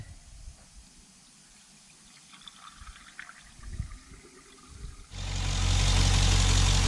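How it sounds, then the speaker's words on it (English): A Holden VE V8 (Pontiac G8), just fitted with a replacement water pump, fires up after several seconds of quiet workshop clatter and settles into a loud, steady idle. "So I've just started the car"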